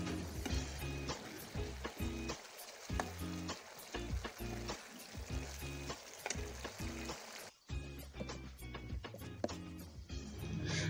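Mutton pieces stir-fried over a high flame in a pan, giving a loud, steady sizzle broken by repeated clinks and scrapes of a stirring spoon, with no voices.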